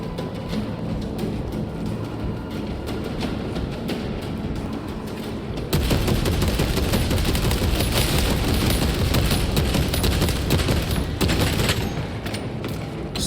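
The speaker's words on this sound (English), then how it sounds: "Soften them up with gunfire first." Sustained heavy gunfire from Space Marine 2, a dense continuous barrage of shots with booming impacts that grows louder and thicker about halfway through and holds at full intensity to the end, with no talk.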